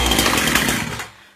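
Chainsaw engine catching after sitting unused for about six months, a loud rough burst of engine noise lasting about a second before quickly dying away.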